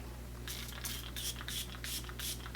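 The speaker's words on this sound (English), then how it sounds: "do a little spritz of the Milk Hydro Grip Set and Refresh Spray" Milk Hydro Grip Set and Refresh Spray from a small mini bottle with a slightly faulty spritzer, several quick hissing pumps in a row, close and soft against a steady background hum.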